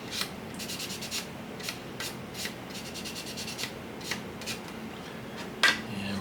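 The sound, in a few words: sanding model ship parts with fine polishing sticks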